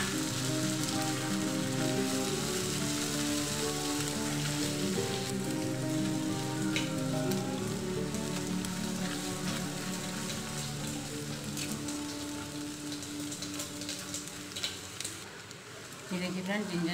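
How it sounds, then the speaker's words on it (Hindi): Homemade fresh ginger garlic paste frying in a pan for restaurant-style dal makhani, a continuous crackling sizzle running throughout, steady and close, under someone talking, easing slightly near the end. "जिंजर गार्लिक पेस्ट को भूनते हुए हमको 3 से 4 मिनट हो चुके हैं"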